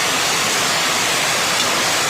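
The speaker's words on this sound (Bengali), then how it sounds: "এত বৃষ্টি হচ্ছে।" Heavy rain pouring down in an unbroken, dense hiss that stays loud and even throughout.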